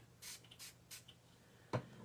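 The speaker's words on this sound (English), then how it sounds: "Let me give it a spray here." Spray misted over a pressed flower craft: a few short, soft hissing bursts, fairly quiet and close, followed by a brief louder knock.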